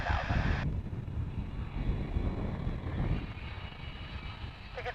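Boeing 737-900ER jet, six years old, departing DFW International Airport as Flight 756 to Seattle, a steady broadband engine roar with wind rumble that holds loud throughout and eases slightly near the end.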